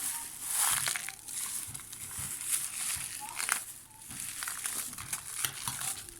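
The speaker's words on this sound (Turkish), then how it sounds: "poşetimizi bu şekilde vakumlamış oluyoruz arkadaşlar" A plastic freezer bag of peas crinkles and crackles steadily as air is sucked out through a tube, a close, continuous rustle running beneath a person talking.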